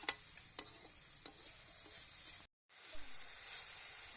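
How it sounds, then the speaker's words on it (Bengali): Grated coconut and jaggery frying together in a pan give a continuous soft sizzle, broken by a few sharp stirring clicks and one brief total dropout midway before the hiss resumes. "গুড়টা নারকেলটা আমি একটুখানি ভেজে নেব গুড়টা গলে যাওয়া অবধি"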